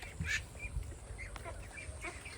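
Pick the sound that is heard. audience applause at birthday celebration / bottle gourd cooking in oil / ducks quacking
ducks quacking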